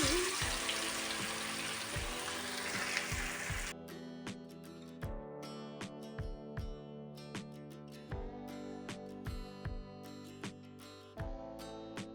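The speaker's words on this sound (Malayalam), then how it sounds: "എണ്ണ നല്ലതുപോലെ ചൂടായി വന്നിട്ടുണ്ട് ഇനി നമുക്ക് ഓരോ മീൻ ഇട്ട് കൊടുക്കാം" Tilapia fish dropped into hot oil gives a loud, dense sizzle for a few seconds, then the frying cuts away to music with steady beats.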